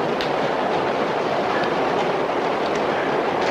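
Steady rumble and rattle of a passenger train car riding the rails, with faint rhythmic clicks over a broad, continuous roar heard from inside the car.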